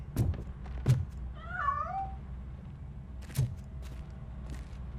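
Cat escaping through a narrow passage in RoboCop: Rogue City, a single wavering meow in the middle set among a few dull thunks and knocks, fairly close with quiet room tone behind.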